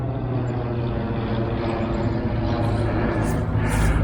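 Airplane passing overhead near an airport by a colonial frontier plantation home in Virginia, a steady loud low engine drone holding throughout and swelling slightly toward the end.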